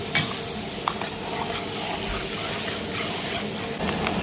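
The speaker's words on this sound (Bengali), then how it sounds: "পেঁয়াজ ক্যাপসিকামটা আমি ভেজে নিচ্ছি।" Chopped onion and capsicum sizzle in hot oil for chilli chicken, a steady frying hiss with occasional stirring clinks and scrapes of the spatula against the pan.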